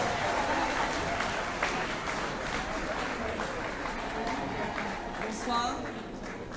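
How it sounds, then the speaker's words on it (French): Applause rolls on at an Olympic flame celebration in Petit Bourg, a continuous crowd patter of clapping with voices calling over it, easing off slightly toward the end. "Les applaudissements, c'est jusqu'au bout."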